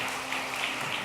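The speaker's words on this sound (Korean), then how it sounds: "큰 박수로 다시 한번 우리 축하하겠습니다" A church congregation applauds after a baptism service, a dense, even wash of many hands clapping at a moderate distance, steady and without pause.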